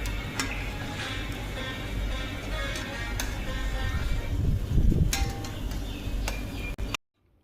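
Arabic sweet dough balls fry in hot oil until golden on both sides, a continuous bubbling sizzle punctuated by sharp metallic taps and clicks, ending abruptly in silence.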